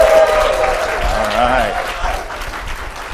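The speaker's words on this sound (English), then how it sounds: "I need another loud applause" Loud audience applause at a business seminar welcoming a speaker, a continuous wash of clapping running under a voice speaking over it.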